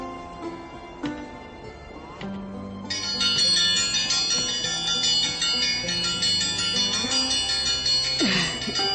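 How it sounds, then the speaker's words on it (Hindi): A dinner bell rings out with a struck onset near the start, then a sustained bright, layered ringing swells and holds for several seconds over a steady background, with a brief burst of noise near the end. "खाना तैयार है बेटा, घंटी बजाकर सबको बुला लो।"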